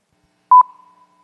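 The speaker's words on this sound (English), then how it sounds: "we play a series of tones." A single short electronic double beep at a steady mid pitch, used as an EEG test tone, rings out clean and close, then fades with a faint tail into silence.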